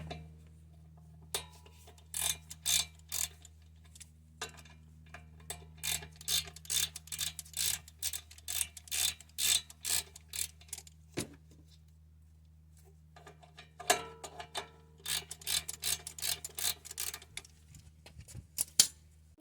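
Ratchet wrench clicking as 10 mm bolts on a Brembo brake caliper are loosened, with bursts of rapid ticking that pause and resume over a low steady hum, close and fairly quiet.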